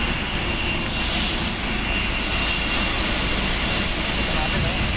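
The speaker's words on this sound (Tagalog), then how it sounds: "Ito yung makina ng aeroplano." A Cebu Pacific airliner's jet engine runs at the terminal, a loud steady roar with a high whine held evenly throughout, while people talk faintly beneath it.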